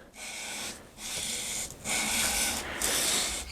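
Hardened steel chisel stroked back and forth on a sharpening stone on its primary bevel, four steady rasping rubs with brief pauses between, close and fairly loud.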